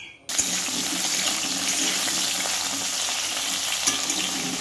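Potato, pointed gourd, eggplant, ash gourd and taro fry in hot oil, a loud, continuous close-up sizzle that starts abruptly and keeps a dense crackling hiss with occasional stirring clinks.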